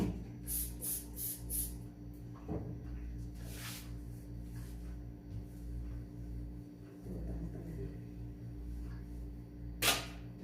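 A spray bottle spritzing while a wedding robe and gown are prepared, heard as a few short sharp hisses spread across a steady background hum, fairly close.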